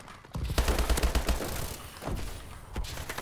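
Rapid bursts of gunfire in a competitive shooter video game as a teammate pre-fires an enemy, loud close volleys with short gaps and a couple of heavier later shots.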